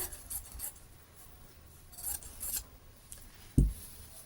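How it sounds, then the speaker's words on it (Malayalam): Scissors cut a piece of fabric for a sewn top, giving a few quiet snips and rustling cloth-cutting strokes followed by a soft thump as the piece is set down. "ഈ ഒരു പീസ് ഒന്ന് കട്ട് ചെയ്ത് എടുക്കുന്നുണ്ട് സെപ്പറേറ്റ് ആക്കി എടുക്കുന്നുണ്ട്"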